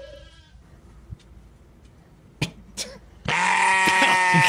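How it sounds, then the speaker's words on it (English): Sheep bleat in a short animal clip: after a quiet stretch with a few soft knocks, one loud, sustained, wavering bleat fills the last second, close and clear. "Sheeps are so weird, man. They freak me out."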